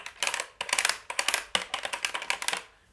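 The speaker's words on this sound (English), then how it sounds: "The front of it is filled with these 5 very awkward clickety clackety buttons." Small plastic buttons on a Yamaha MR-10 drum machine clatter in quick, uneven bursts of sharp clicks, close and fairly loud, with brief gaps between clusters.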